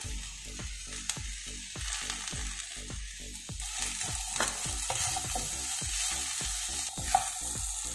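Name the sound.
chilli chapathi frying and being stirred in a pan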